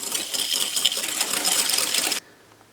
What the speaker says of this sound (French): Allez, on va fouetter ça pendant environ 30 secondes.